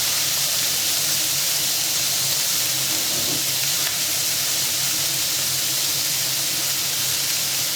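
A steady, broad hiss of onions frying in a hot pan for Ham Sui Gok filling, continuous and even throughout with no talking.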